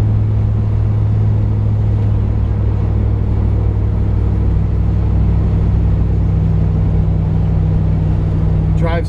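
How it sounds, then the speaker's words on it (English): A 1971 Chevrolet Camaro's engine and exhaust rumble steadily while driving, a loud low drone throughout with someone talking over it. "The engine sounds good. It's got a really nice sounding exhaust system."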